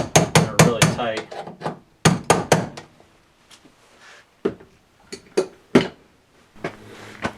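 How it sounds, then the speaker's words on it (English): Sharp, irregular metallic taps of a hammer striking a flat tip screwdriver to drive a tight screw on a generator transfer switch or breaker panel, coming in close, loud bursts separated by brief pauses. "use a flat tip screwdriver and kind of get it on one of the edges, and just kind of hammer it righty tighty"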